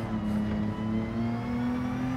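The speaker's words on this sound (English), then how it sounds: "Sounds shifting gears in this thing." A car engine in Gran Turismo 7 hums loud and steady, its pitch dipping briefly at a gear change and then climbing again as it pulls, with no talk over it.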